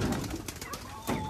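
Pigeons coo briefly near chickens on a farm, a soft, close, throaty call in a short burst against a rustling background.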